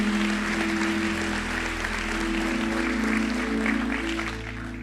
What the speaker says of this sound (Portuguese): Dê o melhor aplauso que você pode dar a Deus.